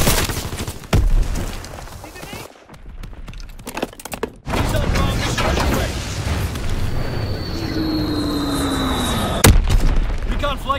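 Explosions from a bombing run in the World War II shooter Call of Duty: WWII, heavy booms and sharp blasts scattered through battle noise, with a dip into near silence midway and a whining fly-by later.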